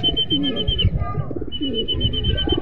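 A racing pigeon just back at the loft coos close by in two soft, throaty rolling phrases, with light chirps in the background.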